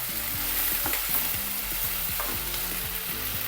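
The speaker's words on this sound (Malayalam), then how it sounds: "50-60 ഗ്രാം പച്ചമുളകുണ്ട്, അത് ഇട്ട് കൊടുക്കുക" About 50-60 grams of green chillies sizzle as they fry in a pan. The crackle is steady and close, broken by regular scraping stirs, and no one speaks.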